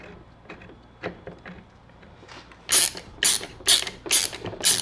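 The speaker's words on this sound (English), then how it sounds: "So then we'll take our bigger bolts here and thread them in there." Larger bolts being threaded by hand into a Cadillac CTS-V brake assembly, a close run of quick ratcheting clicks in several short bursts, louder toward the end, with no talking.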